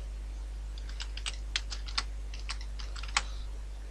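Keystrokes tapped out on a computer keyboard, about a dozen distinct clicks in an uneven typing rhythm, close and fairly quiet over a low steady hum, with no voices.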